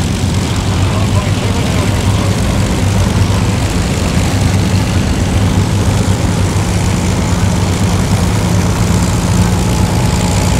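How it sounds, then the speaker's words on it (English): A Lockheed P-38J fighter flies past at the Chino airshow. Its propeller engines give a loud, steady, low roar that lasts the whole stretch, with crowd noise underneath. "coming along P-38J. That P-38 is an awesome looking plane."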